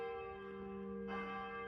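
Church bells ringing in the background, a sustained metallic tone with a fresh strike partway through, steady and moderately distant with no talking.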